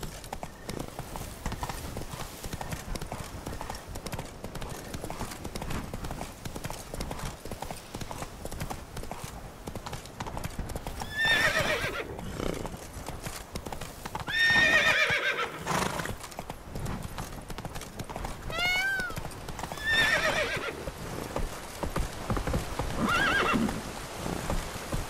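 Roach, a horse in The Witcher 3, gallops with a steady rapid clip-clop of hooves and whinnies loudly several times, with faint rain in the background.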